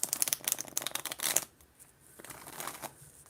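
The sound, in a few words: shuffling a deck of tarot cards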